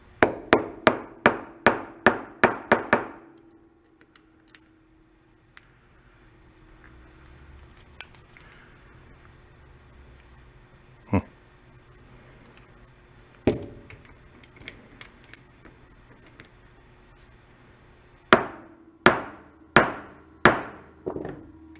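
A hammer strikes a deep steel socket to drive a part out of a dirt bike carburetor, a quick run of sharp metallic clanks, a quiet pause with scattered taps, then another burst of ringing blows close up.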